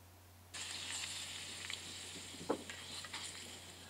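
Chashu pork sizzles steadily as it is stir-fried in a frying pan at home using outdoor cooking gear. The sizzle starts suddenly and stays fairly quiet, with faint scrapes of stirring.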